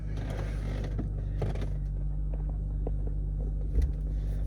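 A damaged BMW 325i engine idles after starting, a steady low rumble with a light mechanical clatter, close and moderately loud, with a brief thump near the end and no voices.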